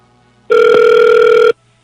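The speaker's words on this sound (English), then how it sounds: "Let's make a phone call." A telephone tone while placing a call, a single loud, steady, pure electronic tone lasting about a second, with quiet before and after.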